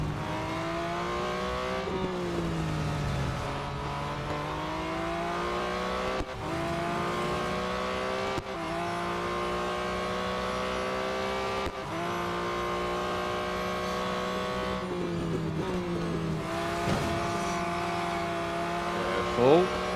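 Race cars in Real Racing 3 roar through repeated upshifts and downshifts with occasional tire squeal on a final lap, engine note climbing and dropping for the whole stretch while someone talks over it.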